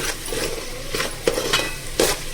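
A spoon scrapes and clinks against a pot while stirring chopped coriander and mint into a tomato-based vegetable biryani mixture, with a few sharp metallic taps amid a low, soft cooking hiss.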